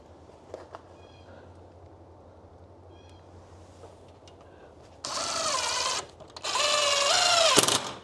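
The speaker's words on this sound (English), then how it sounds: "put 2 screws in." A power driver sinks screws into the track of a Kevlar hurricane screen, two separate whining bursts of about a second each with a rising and falling motor pitch, after quiet handling noises.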